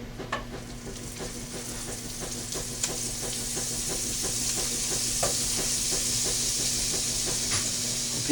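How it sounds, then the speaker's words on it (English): Butter sizzles with trout in a hot 12-inch Lodge cast iron frying pan, a steady close hiss dotted with rapid small pops and crackles that builds slightly louder over time; no voices. "Alright, the pan is hot and we're going to add us some butter."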